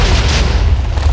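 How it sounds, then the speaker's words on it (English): A loud, deep explosion from a portal in Minecraft's Fossil and Archeology mod, a heavy rumbling boom filling the whole moment up close. "you're going to want to watch out for that explosion"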